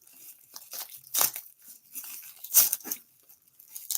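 Heavy packing tape ripped off a mailed package in several sharp, crackling pulls with short pauses between them, close and fairly loud.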